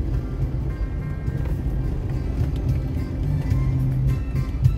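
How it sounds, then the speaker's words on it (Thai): Idling cars in a morning Bangkok traffic jam, a steady low engine rumble close by with no clear passes or revving, continuous and even throughout. "รถติดอยู่แล้ว"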